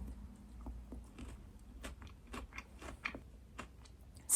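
A crunchy Dubai pistachio chocolate bar is bitten and chewed close to the microphone, giving a series of soft, crisp crunches in an irregular rhythm against a quiet background.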